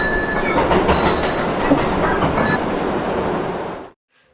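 A train runs along the rails with a loud, continuous rumble and a faint clickety-clack of wheels, then cuts off abruptly into silence.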